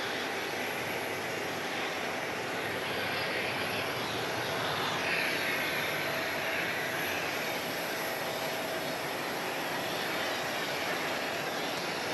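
A jet airliner roars steadily at Phoenix Sky Harbor airport, its broad engine rumble loud and continuous throughout with no talk.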